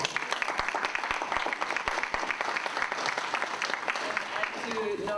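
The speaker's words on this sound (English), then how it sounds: "I think that deserves a big round of applause." Applause for Congresswoman Tulsi Gabbard at a Hawaii Future Caucus event, a sustained round of clapping from a modest room audience, with sharp individual claps standing out and a voice speaking over it.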